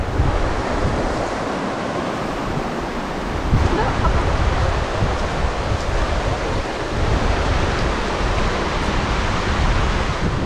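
Irrigation water from the Rayusan River rushes steadily in an open channel leading to the rice fields, a continuous broadband roar close to the microphone with no clear breaks.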